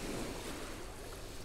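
Sea waves wash at a bay near Anapa as a brief burst of steady, broadband surf noise with a windy hiss, heard alone.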